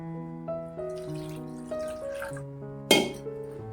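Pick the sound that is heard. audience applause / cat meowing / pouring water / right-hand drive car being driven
pouring water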